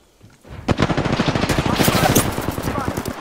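Rapid automatic gunfire from a weapon in the Apex Legends video game crackles loudly and continuously in dense bursts, with a brief quiet lead-in and no talk heard.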